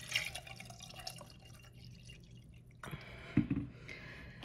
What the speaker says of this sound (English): we're gonna fill it back up so that it covers the whole egg.